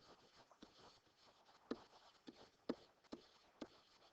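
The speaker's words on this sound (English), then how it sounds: "So I'm going to write out SOHCAHTOA" A pencil writes out a mnemonic on paper, and quiet scratchy strokes come in short bursts with several sharper taps between them, faint and close.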